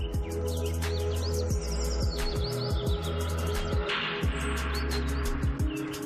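Many birds chirp and tweet in a national park close to the Sundarbans reserve forest, giving a dense, continuous chorus of quick repeated calls over a low steady hum, with no voices heard.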